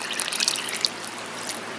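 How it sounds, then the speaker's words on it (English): Two cups of water are poured into a soup pot for cream of broccoli and cheddar soup, a soft steady trickling splash close by with a few bright drips, lasting under two seconds. "we're just about to add our 2 cups of water."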